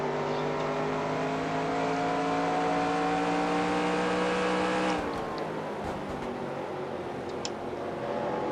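Engine drone of NASCAR race cars in the NASCAR Racing 2003 video game at the Subway 400, a steady layered roar with harmonic whine that drops and changes abruptly near the middle, as if shifting down or passing, then continues rougher.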